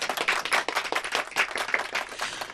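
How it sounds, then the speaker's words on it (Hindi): Loud, dense audience applause on a Hindi music show celebrating two singers, steady clapping throughout with no talk. "इस जुगल जोड़ी के लिए जोरदार तालियां"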